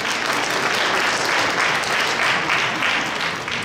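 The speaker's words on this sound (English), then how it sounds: "give them a good clap offering" A church congregation claps for the teenagers in the room: continuous, close, even applause from a large group with no talk over it.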